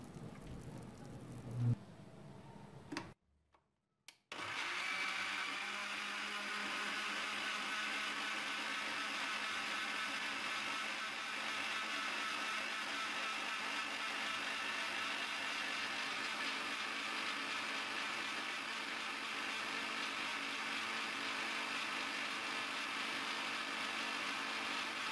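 A blender grinds ingredients with orange juice, running as a steady, loud, continuous whir for over twenty seconds after a brief start-up pause, with no talking.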